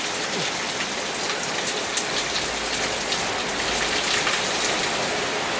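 A steady, close downpour of rain hisses evenly throughout, a dense wash of drops on surfaces with no talking.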